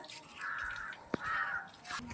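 Crows caw outdoors, several harsh drawn-out calls in a row at moderate distance, with a sharp click between calls under an overcast sky.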